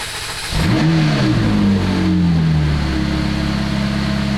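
A wrecked McLaren 675LT with no body panels fires up and pulls out of a garage, its engine catching with a sharp rev, then settling into a loud, close, rumbling idle.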